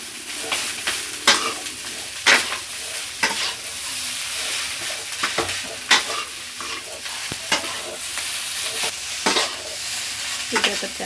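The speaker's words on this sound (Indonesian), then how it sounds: "Aduk rata." Nasi goreng, Indonesian fried rice, tossed and stirred in a hot wok, with repeated loud clanking scrapes of the spatula over a constant frying hiss, close up, about a dozen strokes at an uneven pace, no talking.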